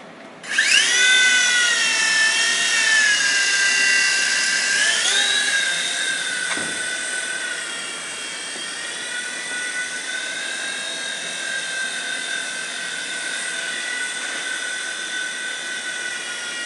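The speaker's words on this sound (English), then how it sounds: "our helicopter should be airworthy. We can check that." A Thumper helicopter's turbine whine spins up to a steady high-pitched drone with a rotor hum, loud and close, continuing without voices.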